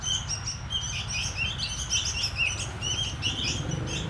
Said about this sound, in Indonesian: Burung ketilang Pak Telo ini ada 4 Dulur.